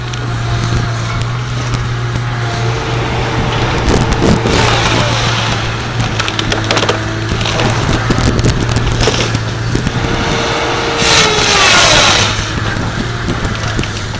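A feller buncher taking down a maple tree, with a steady loud engine drone throughout and cracking, splintering wood over it, swelling around the middle and near the end.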